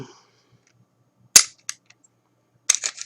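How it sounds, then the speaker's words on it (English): Metallic clacks from a Kel Tec PF9 pistol slide being released during disassembly, a sharp snap followed by a couple of lighter clicks and then a cluster of rattling knocks, close and with no talking. "Then you can release your slide"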